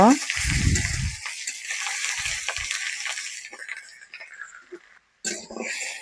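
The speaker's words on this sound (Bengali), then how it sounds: "এখন আমি মশলাগুলো দিয়ে দিলাম দিয়ে নেড়ে চেড়ে নিব" Onion and spices sizzle in a hot pan and are stirred while a potato and stalk curry is cooked, with a steady frying hiss, scraping stirs and brief low knocks, and a short gap near the end.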